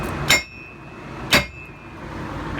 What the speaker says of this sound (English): take a sledgehammer, at least a 3-pound sledge